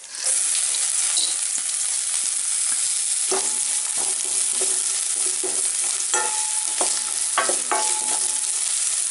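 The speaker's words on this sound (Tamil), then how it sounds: "அரைச்சி வச்சுக்கிற அந்த பூண்டு மிளகு ஜீரகத்தை அதோட சேர்த்துக்கலாம்." Ground garlic, pepper and cumin added to hot oil with mustard seeds for garlic rasam sizzle steadily and loudly, with scattered stirring scrapes and clinks in the pan throughout, no voices.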